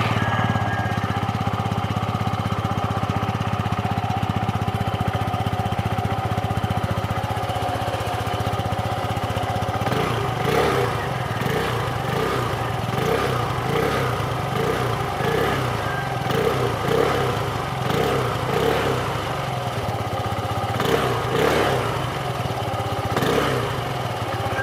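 A Motorstar ER175A Fi single-cylinder four-stroke motorcycle engine runs close by with a steady idling thrum, then turns rougher and more pulsed about halfway through as it is revved in repeated bursts.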